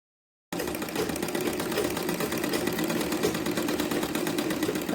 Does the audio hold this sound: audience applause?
no